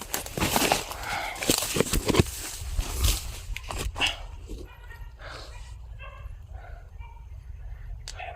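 A dog barks and yips in short irregular bursts on a street corner, fairly close at first and then thinning out, over a steady low background hum with some faint voices.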